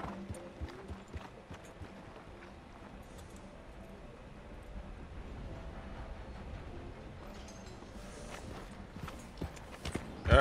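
Horse hooves clip-clop steadily at a walking pace in the Red Dead Redemption 2 video game, soft and fairly close, with faint ambient game sounds underneath and a louder knock near the end.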